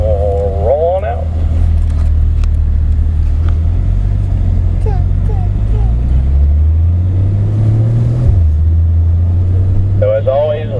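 2015 Porsche Boxster GTS rolling out of a pit lane at a sport driving school, its engine a loud steady rumble that swells and shifts as it pulls away, with a voice talking over it throughout.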